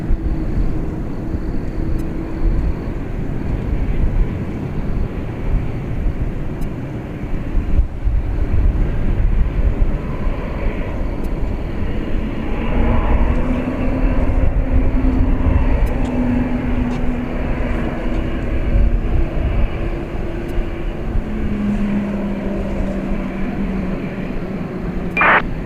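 Brisbane-bound Boeing Dreamliner jet airliner departing from Dallas Fort Worth International Airport at night, a loud sustained engine roar with a slowly shifting drone, heard alone throughout.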